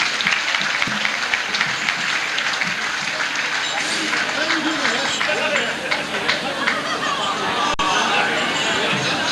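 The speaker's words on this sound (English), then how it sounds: "Put your hands together for my colleague and good friend Paul Clark here tonight at Dromore GFC and Dympna." An audience at a Dromore GFC event in Dromore, County Tyrone applauds, a steady dense clapping from a large crowd with some chatter mixed in, carrying on throughout.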